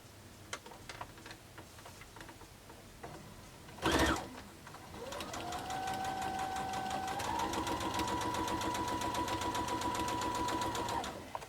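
Sewing machine stitching a quilt four patch block with a standard presser foot, starting after a few clicks and a brief clunk, then running in a steady, fast, close mechanical whir with a rapid rhythmic tick to the end.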